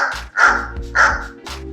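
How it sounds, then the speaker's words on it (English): Dog barks from a sound-effects library ring out clearly, four sharp woofs in an uneven rhythm, close and loud with nothing else behind them. "So there's everything from a bark"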